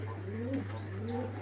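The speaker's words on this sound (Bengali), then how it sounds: "অনেক অনেক পায়রা, সব পায়রাগুলো দেখাবো" Pigeons coo softly in a few rounded, throaty phrases, with a steady low hum underneath and a faint chirp in between, at a pigeon market in Beldanga.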